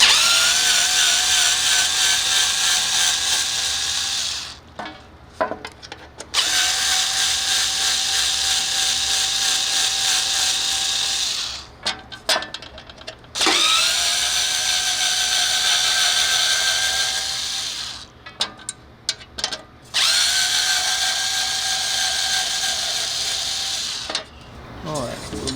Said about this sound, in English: Flip it over, it'll remove 4 screws.